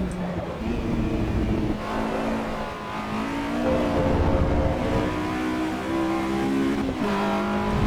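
A Mini Cooper B16 engine revs in the Assetto Corsa EVO racing game, droning steadily and loudly, rising and dipping in pitch with a brief shift near the end, with faint tire noise underneath.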